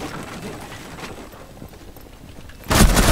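Gunfire in Rainbow Six Siege, aimed at an enemy through a wall: sparse muffled reports and background game noise, then a sudden loud burst of close shots crashing in at the end.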